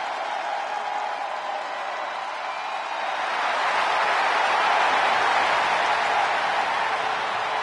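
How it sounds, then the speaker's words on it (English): Virtual arena crowd roaring in an ovation during a WWE 2K23 wrestling broadcast, a steady wash of cheering that swells louder midway and stays broad and sustained. "Listen to this ovation."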